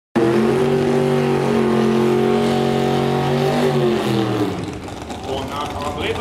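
A Chevrolet Camaro at a public drag racing day sends out a loud, sustained engine roar with steady harmonic tones that then fades and breaks up as the car pulls away, with a voice heard over it.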